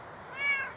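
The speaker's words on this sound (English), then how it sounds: "Also, if you hear my cat meowing" A pet cat gives a single short meow, faint and brief, over quiet background noise.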